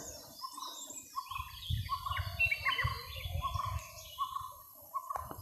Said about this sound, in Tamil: காட்டுக்குள்ளே இருக்கிற குருவிகளோட சத்தம், பூச்சிகளோட சத்தம் மட்டும் தான் கேட்குது